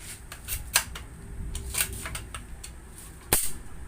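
A few sharp, light snapping shots ring out one at a time, with a louder crisp pop near the end over quiet background.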